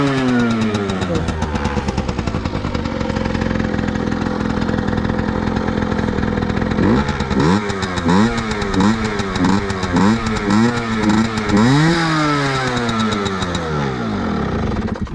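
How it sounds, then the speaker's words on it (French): A small 50cc motorcycle engine idles steadily, then is revved several times in quick bursts, the pitch rising and falling with each twist of the throttle, close by. "il va démarrer sa moto"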